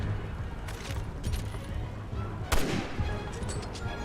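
Gunfire in the video game Resident Evil 6, with a few scattered sharp shots, one loudest crack near the middle, over a noisy game soundscape.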